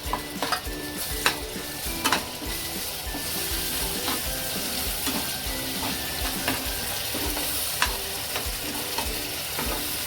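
Tomato paste sizzles as it fries in a soybean masala with onion, garlic and ginger, with a steady crackle throughout and a few sharp spoon scrapes and taps against the pan.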